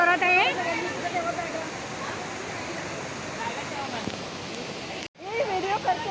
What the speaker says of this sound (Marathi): तुम्ही बघू शकता मार्लेश्वर मंदिरामध्ये कसा धबधबा जोरात आहे